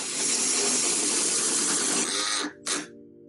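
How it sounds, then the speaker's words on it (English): A drill with a hole saw cuts through a door while a new doorknob lock is installed. It makes a loud, steady, grinding whir close up, then cuts off with a brief final burst. "we're going to go ahead and drill our hole on one side with the hole saw that comes with the kit"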